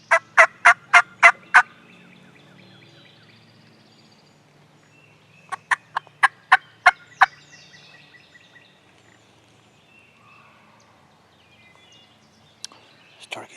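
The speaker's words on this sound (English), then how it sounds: "He's over there gobbling quite a bit" A wild turkey gobbles in repeated rapid bursts, two clear series of sharp, pulsing gobbles at moderate distance, separated by quiet stretches, with a faint call near the end.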